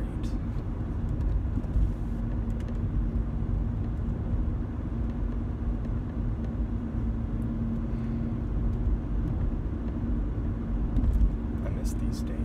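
A car drives down a street, its low, steady road rumble running continuously beneath a person talking.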